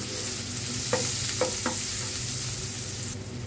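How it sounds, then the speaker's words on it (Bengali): Onions fry in a pan for bitter gourd chorchori, a steady close sizzle with three quick scraping stirs of a spatula around the middle. "তো প্রথমে হচ্ছে পেঁয়াজটা একটু ব্রাউনিশ করে ভেজে নিতে হবে।"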